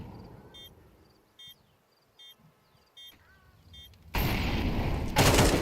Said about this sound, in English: Spinks with a huge headshot!